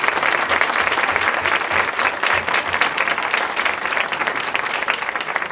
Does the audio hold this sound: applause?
yes